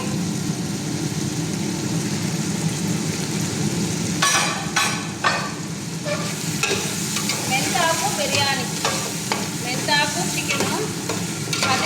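Leaves and spices frying in oil for a fenugreek-leaf biryani, a steady close sizzle with stirring and spoon scrapes against the pan, clattering more busily in the second half.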